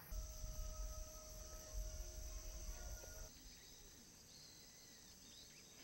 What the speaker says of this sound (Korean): 풀벌레 소리, 새소리만 가득한 이곳